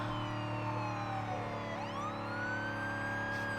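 Police car siren in the zombie survival game State of Decay 2, a wailing tone sweeping down then rising again over a steady engine hum, moderately loud and without voices.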